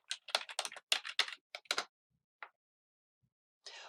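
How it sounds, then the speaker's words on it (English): A username and password are typed on a computer keyboard in a quick, close run of soft clicking keystrokes, which then slows to a few scattered taps and a short final flurry in a quiet room. "Go ahead and type in your username and your password."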